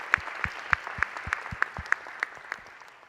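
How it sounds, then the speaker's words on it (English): Audience applause at a school district address after a student string quartet: evenly spaced, crisp claps about three per second, near and clear over a low room murmur, no talk. "Please join me in another round of applause for them and all our student performers."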